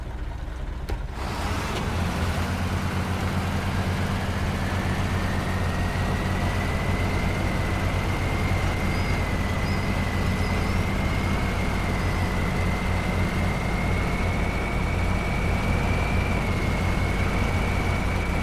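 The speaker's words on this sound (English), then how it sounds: "This turbo on this thing is so loud. You can tell when it's doing some work because that turbo really starts to whine up." Heavy truck engine with a whining turbo in the SnowRunner video game, a steady low diesel drone under a high rising whine that climbs and holds as the truck works, loud and continuous with no talk.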